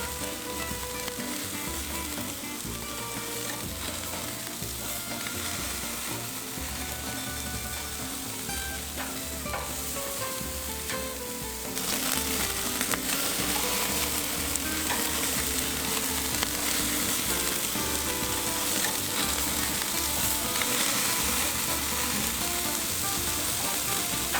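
Korean kalbi ribs sizzling on a hot grill, a dense, steady hiss and crackle of searing meat that grows louder about halfway through and continues without talk.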